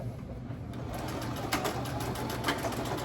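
Sewing machine stitching a tote bag, a steady close mechanical whir with fine rapid needle ticking running throughout.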